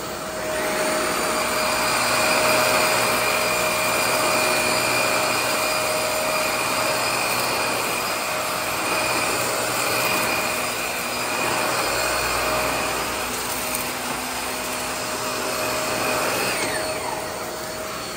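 A secondhand vacuum cleaner runs steadily with strong suction, giving a loud, continuous whine with a constant high tone and broadband rush that holds level for the whole stretch, with no talk over it.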